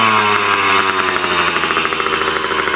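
A Suzuki DS80 80cc two-stroke dirtbike engine running on a bench after repair attempts, a loud, close, rapid buzzing putter with a steady pulsing rhythm and slight pitch wobble, alone without talk.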